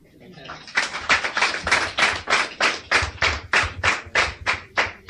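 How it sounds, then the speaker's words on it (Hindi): An audience at a tech talk claps in a slow, even rhythm of distinct, loud, unison beats, about a dozen in all, with no talk over them. "ताली बजाने इनके लिए।"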